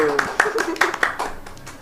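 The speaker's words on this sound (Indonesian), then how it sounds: "Tepuk tangan dulu" A few quick hand claps ring out close by in a short burst, mixed with a voice talking.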